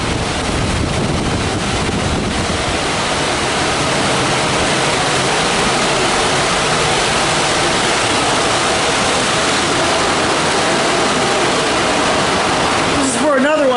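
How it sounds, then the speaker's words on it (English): Hydraulic oil rushes back into the tank as an elevator descends in a machine room, making a loud, steady broadband whooshing flow that continues for over ten seconds. "Now the elevator's coming down. You can hear the oil flowing back into the tank."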